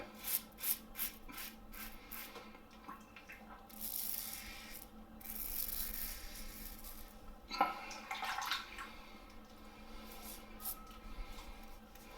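A Yaqi safety razor blade scrapes across lathered stubble in a bathroom, close, crisp rasping strokes in uneven bursts with quieter gaps and a faint watery background, no speech.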